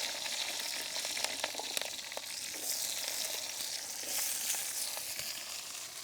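Chopped shallots and green chilies frying in hot oil in a Sri Lankan Tamil village kitchen, giving a steady broadband sizzle with scattered sharp crackles and pops, fairly close, with no talking.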